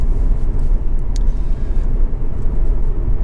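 A 1.8 i-VTEC engine in a Honda Civic EX five-door idles steadily after running for some time, a continuous low rumble with even, unbroken drone and no voices.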